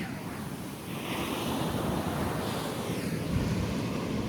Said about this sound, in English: And this ocean is so loud.